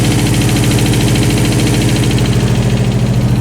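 Nissan 300ZX engine idling slightly high, a loud, close, steady rumble with a fast even pulsing throb throughout, no voices.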